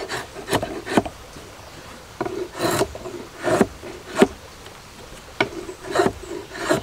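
Wooden timber-frame pegs for a greenhouse are tapered by hand, giving repeated rasping strokes, close and uneven in rhythm, with short pauses between strokes and no talking.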